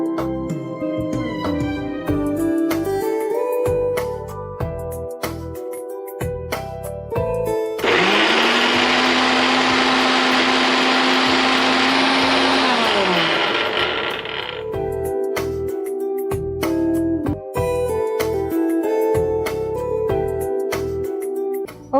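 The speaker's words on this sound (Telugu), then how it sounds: "ఇప్పుడు దీన్ని మనం మిక్సీ పట్టేసుకుందాం." A kitchen mixer grinder blends muskmelon with milk and fresh cream, a loud whirring burst of about seven seconds that rises and then winds down, set between stretches of background music.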